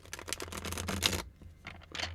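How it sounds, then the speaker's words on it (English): A long tarot deck is shuffled by hand, giving a quick run of riffling card flutters, a brief pause, then a few more soft riffles, close and fairly quiet. "It's very long, so luckily I have long hands, so I can shuffle them."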